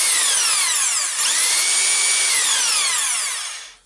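A 1998 Makita HR2410 rotary hammer drill whirs steadily at high speed running in reverse, its pitch dipping and climbing as it works, then winding down at the end.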